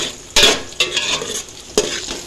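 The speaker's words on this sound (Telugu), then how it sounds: "ఫ్రై అవుతుంది," Vegetables frying for a village-style veg biryani, with a spoon scraping and stirring the pan in three or four distinct strokes over a soft, steady sizzle, close up and with no talking.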